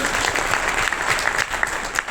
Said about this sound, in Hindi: ताली बजाने बजाओ, डोंट वरी